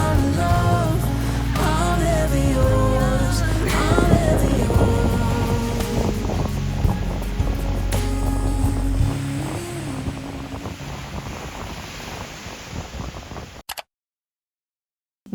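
Ocean waves wash against the shore at a Maldives resort, a steady broadband rush with wind buffeting the microphone, loud and continuous before cutting abruptly to silence near the end.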